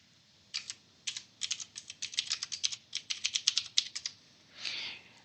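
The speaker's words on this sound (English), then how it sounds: "let's just type sample variance" Keystrokes on a computer keyboard in a quiet room, a burst of quick, uneven clicks in two runs while entering text, closing with a softer, longer rustle.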